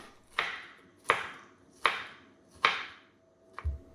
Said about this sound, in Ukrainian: Далі консервовані ананаси також нарізаю кубиком.